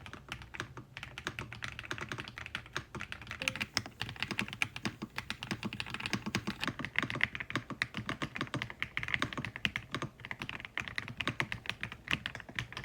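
Fingers type steadily on a mechanical keyboard whose keys bottom out with a clacky sound, a rapid continuous stream of crisp close clicks with no talking.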